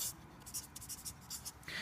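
Pen strokes scratching on paper while notes go down during a biology lesson, a quiet run of short uneven scribbles, close and faint, with no voices.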